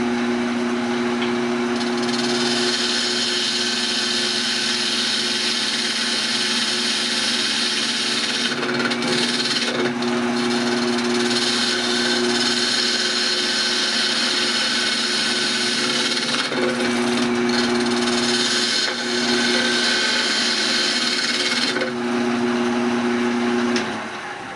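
A segmented wooden bowl ring is rough cut on a lathe, a steady loud motor whine with a constant hum and scraping tool cuts, broken by a few brief pauses.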